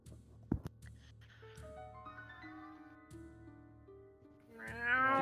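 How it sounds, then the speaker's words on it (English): A cat meows faintly during a tabletop fantasy role-play session, with a drawn-out call rising at the end over a bed of steady sustained ambient tones. "You hear a cat."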